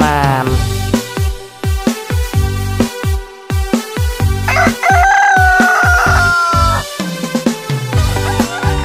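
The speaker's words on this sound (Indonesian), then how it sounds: "Kuku kokoroyok, begitulah bunyinya. Kakinya bertanduk, ayam jantan namanya." A rooster crowing within a bright, bouncy Indonesian children's song, with loud cock-a-doodle-doo calls over the rhythmic accompaniment and melody.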